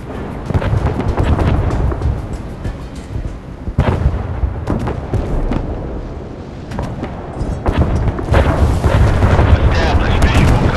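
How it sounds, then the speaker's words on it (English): Warship guns firing in the Force of Warships naval battle game, giving a dense run of heavy booms and rumbling blasts over continuous loud battle noise, with brief radio-style voice callouts mixed in. "Ready to open fire on the enemy."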